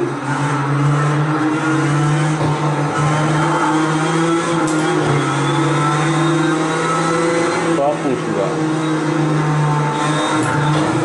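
A racing-simulator car engine drones loud and close with a steady buzzing pitch that shifts slightly as the throttle changes, a voice faintly present beneath it.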